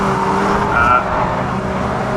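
A Caterham race car in a 2013 Caterham Academy race at Brands Hatch passes with a loud, steady engine drone that swells briefly near the middle.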